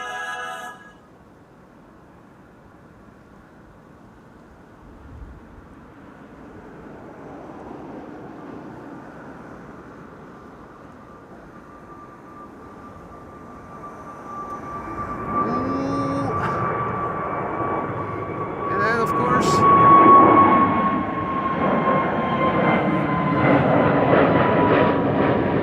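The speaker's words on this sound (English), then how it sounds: "That's KLM flight 565 to Nairobi in Kenya," A KLM Boeing 737 airliner at Amsterdam Schiphol, heard from a distance, starts as a faint low rumble and gradually builds into a louder jet roar with a sustained whine, swelling over about twenty seconds.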